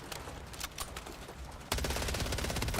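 Machine pistol firing in Call of Duty MW3 multiplayer, scattered distant shots giving way to a sudden loud, rapid continuous burst of automatic fire that holds to the end.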